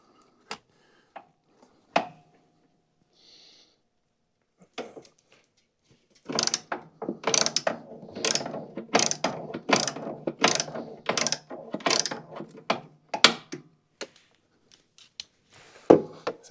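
A ratchet with a 3/8 12-point socket loosens square set screws on a pulley of a Toro or Exmark zero-turn mower, giving a run of close, rapid clicking strokes after a few scattered knocks.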